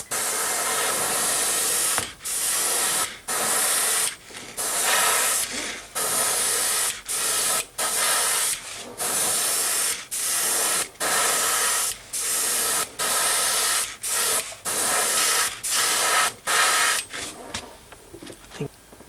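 An airbrush sprays Badger Ghost Tint gold paint onto a crankbait fishing lure in about a dozen close, hissing bursts separated by brief pauses, with no talking.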